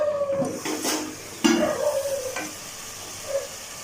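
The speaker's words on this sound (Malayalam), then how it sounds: "നല്ലപോലെ ഇടയ്ക്കിടയ്ക്ക് നമ്മൾ ഇളക്കി കൊടുക്കണം," Chicken curry is stirred in a pan, giving a few scraping spatula strokes over a light sizzle, close and alone without talk.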